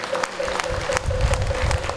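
Applause at a Korean Taego Buddhist order ceremony installing a new head of administration: a crowd's steady, dense clapping fills the hall, loud and continuous throughout.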